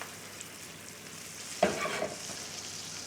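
Apples dropped into a hot pan with pork chops, a quiet sizzle that jumps into a sudden louder crackle as they land, then keeps frying steadily on its own.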